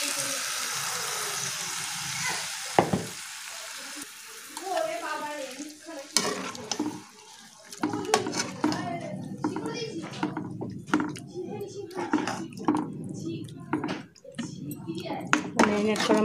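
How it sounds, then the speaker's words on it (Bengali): Marinated chicken sizzling in spiced oil in a pan for chicken rezala, a steady fry broken by repeated scraping stirs and clanks of a spatula, with someone talking over parts of it. "ম্যারিনেট করা মাংসটা দিয়ে এবার আমরা ভালো করে এটাকে কষিয়ে নেব"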